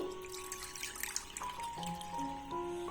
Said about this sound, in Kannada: ಈ ಬೌಲಿನ ಅಳತೆಗೆ 1 ಬೌಲ್ ಆಗುವಷ್ಟು ಹಾಲನ್ನ ಆಡ್ ಮಾಡ್ಕೊಂತಾ ಇದ್ದೀನಿ